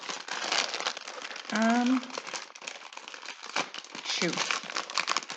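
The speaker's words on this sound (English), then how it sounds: "Alrighty, let's tear this bad boy open." A snack package wrapper being torn open, with steady close crinkling and crumpling of plastic throughout, a sharper rip partway through, and a person speaking briefly.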